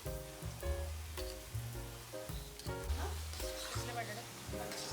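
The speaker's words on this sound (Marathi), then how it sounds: "छोले पण त्या वाटणामध्ये छान परतून घ्यायचे आहेत." Chickpeas sautéing in oil with a spinach-coriander paste, a steady sizzle with repeated stirring and scraping, while a tonal, music-like bed runs underneath throughout.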